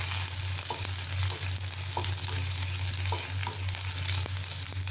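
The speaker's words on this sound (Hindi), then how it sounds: "एबे हमरा तेल गरम हो गेलानी, अदा रसुण कटा दे दबा। गोटे मिनट फ्राई करि नबा।" Chopped ginger and garlic fry in hot oil with a steady, dense sizzle and crackle, heard close, while a low hum and a few soft stirring clicks sit underneath.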